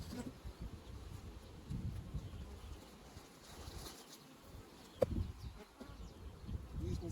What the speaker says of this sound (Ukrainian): Тут бджоли і там бджоли.